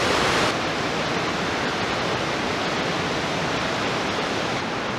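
Soča river water rushes loudly near its source in high flow, a dense, steady roar of turbulent water filling the whole space without pause.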